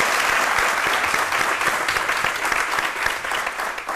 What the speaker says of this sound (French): une vague d'applaudissements pour une classe